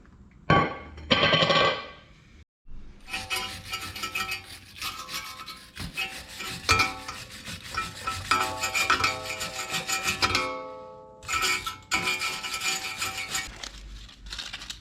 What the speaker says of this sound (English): I like to get in here with a little bit of sandpaper to clean up this hub a little bit.